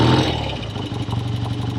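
A 1969 BSA Lightning 650 motorcycle engine fires up after a kick start, loud at first and then settling into a close, steady, rapidly pulsing run.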